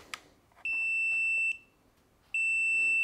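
A WE01A airsoft carbine's fire-mode selector gives two sustained electronic beeps, separated by a short pause after a faint click, loud and close with no talking.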